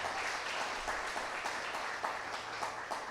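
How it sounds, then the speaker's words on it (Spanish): Church congregation applauding during a sermon, a steady wash of many hands clapping at moderate distance, fairly soft and continuous. "Fuerte aplauso a Jesús."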